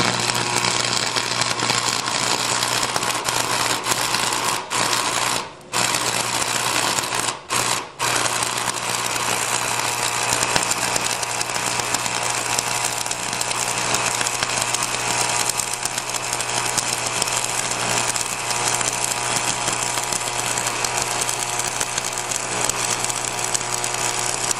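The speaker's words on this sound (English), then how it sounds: "Once the tip turns red hot, it starts to arc easily." A stick welding electrode arcs in a steady, loud, harsh crackling buzz that runs almost unbroken, with only a couple of brief gaps where the arc drops out.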